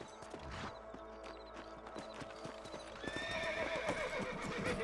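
Steady clip-clop of horse hooves trotting with a whinny, over a busy soundscape in the video game Red Dead Redemption that gets louder partway through.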